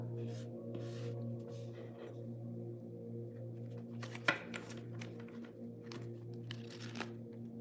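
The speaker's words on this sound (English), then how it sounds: "I'm just kind of like running my fingers through this deck" Soft, scattered rubbing and riffling of a tarot card deck being fingered, quiet, over a steady low hum with a few light taps.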